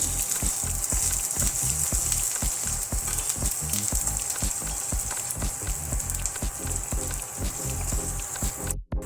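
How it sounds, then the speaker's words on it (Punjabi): Carrots and peas stir-fry in a pan for vegetable Maggi noodles, a steady close sizzle with a hiss and repeated scraping stirs of a spatula. "ਗਾਜਰਾਂ ਪਾ ਦਾਂਗੇ ਨਾਲ ਹੀ ਪਾ ਦਾਂਗੇ ਆਪਾਂ ਮਟਰ ਤੇ ਇਹਨਾਂ ਨੂੰ ਆਪਾਂ 2 ਮਿੰਟ ਵਾਸਤੇ ਇਹਨਾਂ ਨੂੰ ਸਬਜ਼ੀਆਂ ਨੂੰ ਭੁੰਨਾਂਗੇ"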